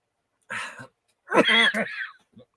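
A person coughs a few times in short harsh bursts, close and fairly loud, with a faint trailing cough at the end.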